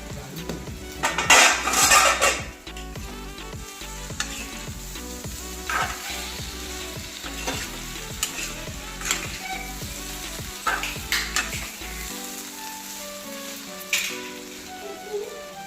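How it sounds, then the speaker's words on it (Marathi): Raw banana slices stir-fried in a pan, steady sizzling under repeated scraping and clinking of a metal spatula against the pan, close and clear, with a louder burst of frying early on. "आणि इथे बघा मीठ घातल्यानंतर आपण ही केळी परत परतून घेतलेली आहे"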